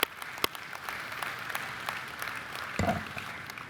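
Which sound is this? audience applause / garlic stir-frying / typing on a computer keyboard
audience applause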